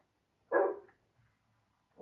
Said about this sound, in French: Dès que j'aurai repéré ce loup, et ben, je vais l'adopter.